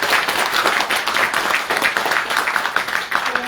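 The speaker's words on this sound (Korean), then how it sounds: "서로에게 큰 박수부터 쳐주시기" An audience claps steadily at a Korean political lecture event, a close, dense wash of applause that lasts throughout without pause.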